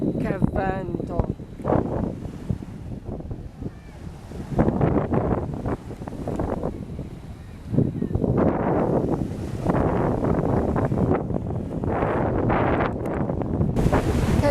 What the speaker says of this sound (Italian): Che vento!